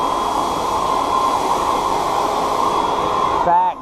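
A DeWalt 40-volt battery backpack leaf blower runs at a steady, loud whooshing drone close by, then winds down near the end.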